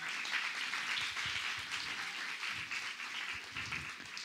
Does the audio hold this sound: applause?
yes